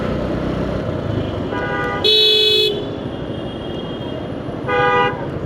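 Road traffic in Bangladesh with cars, motorcycles, buses and trucks rumbles steadily while a car horn gives a sharp toot and a later second honk cuts through the nearby engine noise.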